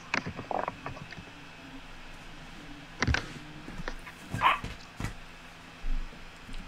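Greater Dog enemy from the Undertale video game barking in several short, spaced yips and woofs, mixed with creaky game sound effects.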